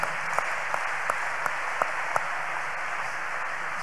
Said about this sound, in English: Shall we clap unto God of the choosing?